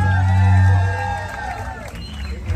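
A crowd cheers and whoops for the cars at a car club show in Laredo, Texas, with a loud, steady low hum running underneath.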